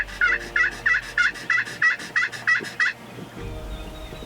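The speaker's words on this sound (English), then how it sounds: "he had a couple of birds gobbling" A wild turkey gobbles repeatedly outdoors at dawn, about nine loud, evenly spaced calls that stop before a quieter stretch of ambient field noise.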